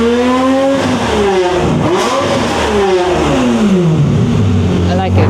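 A toned-down Acura NSX exhaust revs loud and close, its pitch sweeping up and falling back several times in quick succession over a continuous engine roar.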